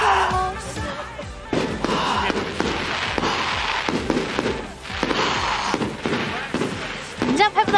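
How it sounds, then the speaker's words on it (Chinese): Fireworks burst at a New Year celebration in a rapid, irregular run of loud crackling blasts and thumps. People talk over the explosions, and sharp pops cluster near the end. "我们一起看烟花，新年快乐！"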